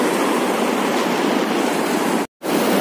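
Rushing mountain stream in Kashmir, a steady loud broadband roar of fast water close by, continuous apart from a brief dropout near the end.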